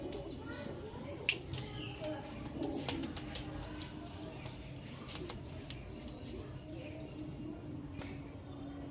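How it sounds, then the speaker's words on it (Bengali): Pigeons coo softly in the background while a person talks over them. "এই পায়রা দুটো ভাই তোমার পায়রা"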